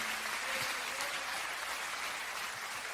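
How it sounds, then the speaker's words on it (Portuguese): A church congregation applauds during a worship service, steady dense clapping filling the whole span at moderate distance, with faint voices mixed beneath. "Os que podem dar a Jesus uma linda salva de palmas"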